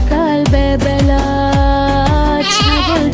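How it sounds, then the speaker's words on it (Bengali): A goat bleats as a short wavering sound effect near the end, set within a Bengali children's animal rhyme song and carried over loud music with a regular beat. "ছাগল ডাকে মে মে মে"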